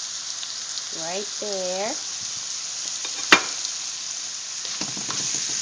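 Chopped vegetables for a crawfish étouffée wilting in a hot pan, giving a steady soft sizzle throughout with a sharp clatter near the middle, while a voice speaks briefly near the start.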